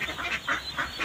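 Pet ducks quack in a short burst of repeated nasal calls, close and fairly clear, about three or four quacks in quick succession.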